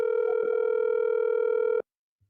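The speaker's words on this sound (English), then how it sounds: "Hey, the phone ringing, yes?" Telephone ringback tone on an outgoing call, a single steady electronic tone held loud and close for almost two seconds before cutting off into silence.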